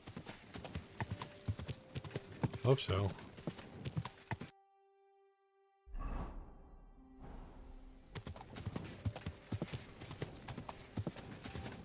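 Horse hooves clip-clopping at a steady walking rhythm in Kingdom Come Deliverance 2, close and clear over game ambience, with a quiet gap midway and brief speech.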